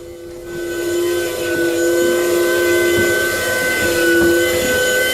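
A steady, loud mechanical hum and rumble from a steam engine in an off-grid micro hydro system, with sustained tonal whine running continuously throughout, close by.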